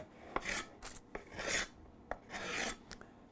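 A hand scraper is drawn across wood to remove a mark, giving several close, rasping strokes, each a short harsh scrape with sharp clicks between them, irregular in rhythm and heard alone.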